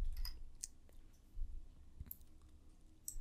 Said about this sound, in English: I will go with the default option and click on next